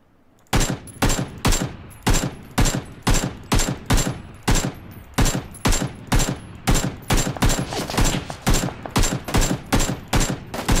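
Rapid automatic gunfire in the video game Battlegrounds (PUBG), a long sustained burst of evenly spaced loud, sharp shots repeating about twice per second, close and dominant.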